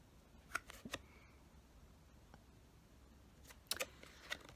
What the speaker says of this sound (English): It shuffles pretty good.